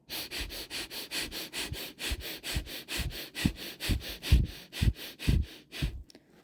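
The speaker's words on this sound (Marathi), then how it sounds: "रिलॅक्स अशा पद्धतीने तुम्हाला श्वास घ्यायचा आहे" Rapid, forceful sniffs drawn in through the nose during sukh pranayama, about two per second, close and rhythmic, each sharp intake followed by a brief pause and repeating steadily before stopping.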